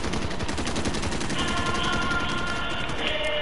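Video-game rifle fire crackles in fast, steady bursts of close gunshots throughout, joined midway by a thin high-pitched whine.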